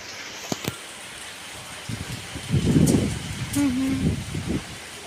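Rain falls around a fourth-floor home with a tree nearby, giving a steady background wash broken by a few scattered knocks. A louder stretch of rustling and a brief voice-like tone come near the end.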